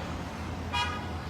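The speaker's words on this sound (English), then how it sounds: "You can hear the honking in the background." A single short car horn toot sounds in the middle, over a steady hum of road traffic nearby.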